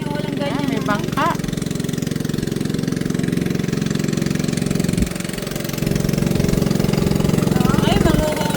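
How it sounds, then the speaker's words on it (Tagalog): A motorized bangka boat engine runs steadily on flooded water, a continuous low chugging drone that holds throughout with a brief dip midway, while people talk intermittently over it. "may bangkang di motor na oh"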